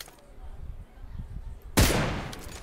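A sharp gunshot bursts out partway through in PUBG Lite, aimed at a fleeing motorbike, following quieter rumbling, then trailing off with scattered echoes.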